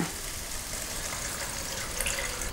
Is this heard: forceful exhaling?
no